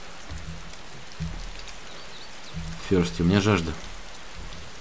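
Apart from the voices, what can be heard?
rain falling in DayZ video game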